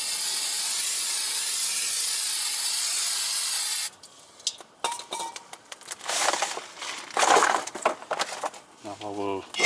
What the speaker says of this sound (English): Let me spray it one more time.